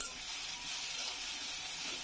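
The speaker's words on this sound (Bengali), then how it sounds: "পেঁয়াজটা একটু হালকা ভাজা হোক" Onion fries gently in a pan, a soft, even hiss of oil that carries on steadily with no other sounds over it.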